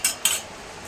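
Two quick clinks of metal utensils against dishes while rice is served alongside a silver carp fish curry, bright and close, then quiet.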